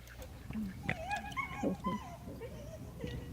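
A large dog, a mastiff-sized pup at a first untrained introduction, whimpers, yips and gives short barks close by, in quick irregular bursts.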